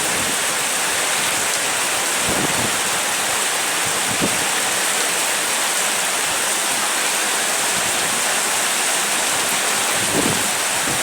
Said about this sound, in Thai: วันนี้ชุ่มฉ่ำด้วยฝนครับ